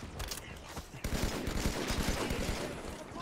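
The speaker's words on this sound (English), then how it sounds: "We'll do the classic battle rifle." Battle rifle fire in the game Halo 5, dense bursts of gunshots rattling almost continuously with overlapping explosions and combat noise, faint and busy.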